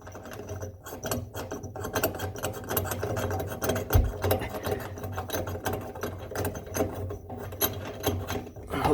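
Ratchet tightening a pipe fitting in building work, rapid repeated clicking strokes close up, continuous for several seconds with no talk.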